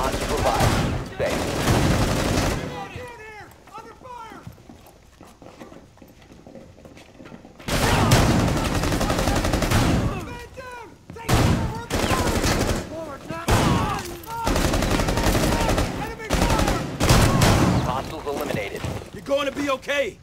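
Bursts of enemy gunfire in Rainbow Six Siege during a house terrorist hunt, heavy rapid volleys in several long stretches broken by quieter gaps, with a player talking over it.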